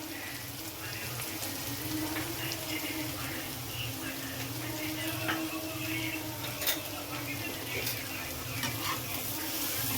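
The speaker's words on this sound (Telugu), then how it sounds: "ఇవి కొద్దిగా పచ్చివాసన పోయేంత వరకు కూడా ఫ్రై చేద్దామండి" Capsicum and broccoli with ground spices frying in a pan, a soft continuous sizzle with occasional stirring scrapes, faint and steady throughout.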